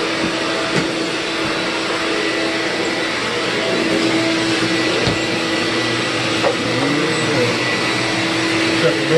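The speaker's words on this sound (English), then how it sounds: "we're just gonna go through and just vacuum it up real good." A Hoover backpack vacuum runs continuously with a steady loud whine while sucking up fallen ceiling tile debris from a bathroom floor, occasional ticks and rattles of debris passing through the hose.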